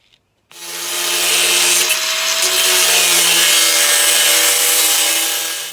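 A power tool cuts a metal bracket for a third brake light on a Land Rover Series 2A, a steady loud whine held for about five seconds with no talking.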